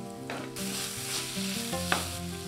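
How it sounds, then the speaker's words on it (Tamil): Sliced carrot and capsicum sauté on a medium flame, a continuous close sizzle and frying hiss with occasional stirring scrapes, no voices. "மீடியம் ஃப்ளேம் வச்சு நல்லா வதக்கி விட்டுக்கோங்க"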